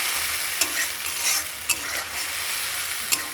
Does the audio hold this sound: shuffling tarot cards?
no